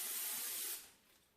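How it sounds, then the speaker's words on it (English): A can of cooking oil pan spray hisses briefly onto a pan for a bacon breakfast, a single close, bright spray burst lasting under a second before fading. "this is just a pan spray"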